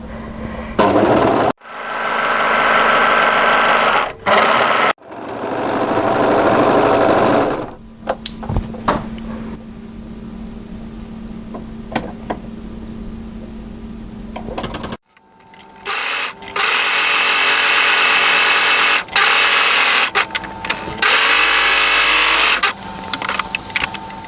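An overlocker serging the edges of jacket fabric pieces runs in several loud bursts of rapid mechanical whirring, separated by short pauses and quieter handling sounds.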